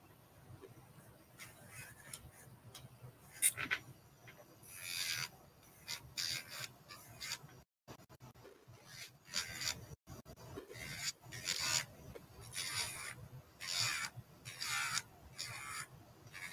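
An electric nail file running at about 6,000 to 7,000 RPM works gently along the cuticles during a gel extension set, giving soft, close rasping and rubbing bursts in an irregular rhythm, faint and without speech.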